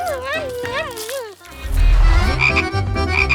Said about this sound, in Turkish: Bakın kutuda bir kurbağa var.